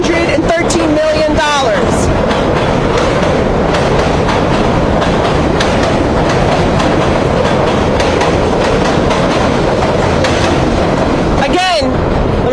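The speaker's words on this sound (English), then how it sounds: "because the train was passing" A train passes loudly and steadily for the whole stretch near a proposed New York City homeless shelter, with a rumbling roar and brief squeals at the start and end. A voice speaks faintly under the noise.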